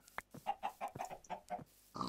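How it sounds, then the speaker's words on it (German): Pigs in the Minecraft video game grunt in a quick series of short nasal snorts, close and fairly clear, with a chicken-like cluck among them and no talk. "Ja, Schweine, könnt grunzen, wie ihr wollt."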